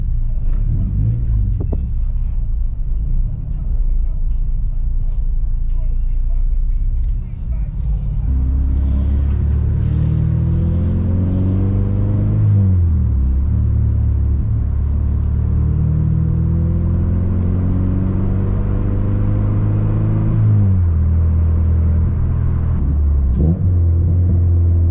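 A Honda Civic Si being driven, its engine droning steadily with repeated rising revs through the gears and a constant low rumble, with a voice talking over it at times.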